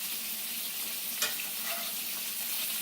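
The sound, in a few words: scallops and lobster tail searing in hot oil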